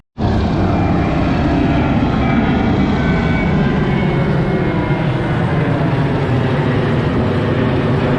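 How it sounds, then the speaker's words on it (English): A loud, steady roar of an aircraft overhead near the Las Vegas airport, heard from a golf course, a broad continuous engine rumble that starts abruptly and holds constant with no talk. "Busy airport right here."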